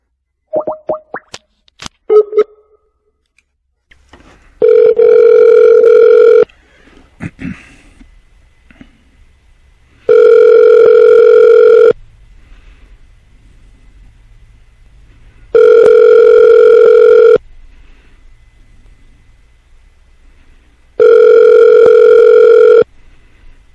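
An outgoing phone call to a law office rings out: a few clicks and beeps, then four long, steady ringback tones with quiet gaps between them, loud and alone.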